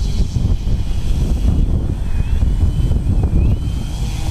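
An FMS Pitts 1400mm RC model airplane taxis back toward the runway outdoors after rain, its electric motor and propeller giving a steady, continuous buzz mixed with wind rumble that runs unbroken throughout.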